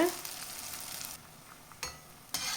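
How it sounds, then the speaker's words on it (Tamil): Idli batter cooking in a pan on a slow flame gives a soft, low sizzle, with a brief louder burst at the start and a couple of light clicks later. "மாவை எடுத்து ஊற்றிடலாம் வேகட்டும் திருப்பி போட்டுக்கலாம் ஸ்டவ் ஃபுல் ஸ்லோவில் வச்சுட்டு வேக வைங்க"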